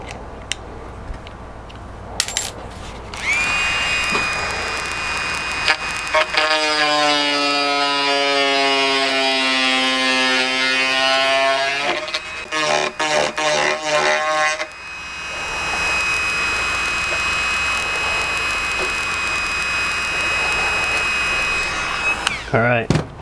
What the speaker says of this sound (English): Got a little drum sander right here. It's about whipped, but it'll still do the job.